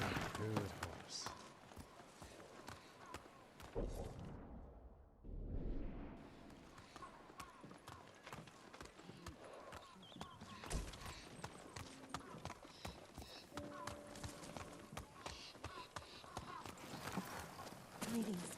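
Horse hooves clip-clop steadily in the video game Ghost of Tsushima, a continuous trotting rhythm under quiet background ambience, briefly dipping before resuming.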